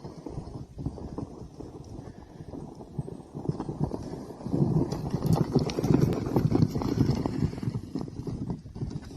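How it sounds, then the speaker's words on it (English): Horse hooves clip-clop in a steady, uneven patter while the animal strains to pull a sled, growing louder and denser in the second half over a rough, windy background. "I think the horse was trying to pull the sled."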